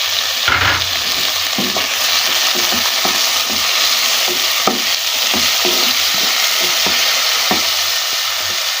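Steady loud sizzling of chopped tomatoes with ginger-garlic paste in a hot pan, with a spoon stirring and scraping in a regular rhythm throughout; no talking.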